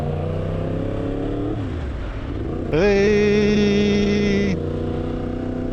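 A Yamaha MT-10 motorcycle engine idles, dips, then rips into a loud high rev that holds briefly before dropping back to a steady idle, close up, with a short shout from a rider.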